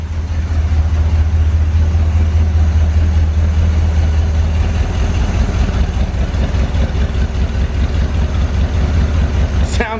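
A 1970 Corvette barn find V8 engine idles steadily with a deep, loud, continuous low rumble and a throbbing rhythm, close up throughout.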